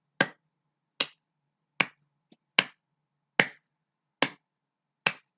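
Eight sharp hand claps in an even, steady rhythm, each crisp and close with silence between, no talking.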